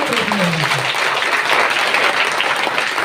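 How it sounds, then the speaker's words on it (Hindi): A congregation at a ministry prayer gathering gives loud, vigorous applause, a dense wash of many hands clapping close by, sustained evenly throughout with a brief voice at the start. "जोरदार ताली बजाओ।"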